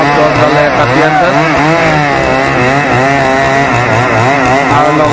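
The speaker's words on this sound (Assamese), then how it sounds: "এই প্ৰকাণ্ড আহত গছডালে কাটি আছে" A chainsaw cutting through a large damaged tree in a town on Majuli island, a loud close whine that wavers steadily as the blade bites into the wood, running without a break.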